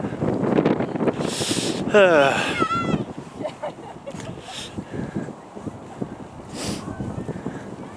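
A breeze buffets the microphone on an outdoor walk, a low blustery rumble that rises and falls beneath a voice and a brief bird chirp.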